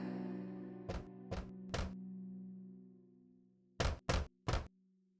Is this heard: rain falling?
no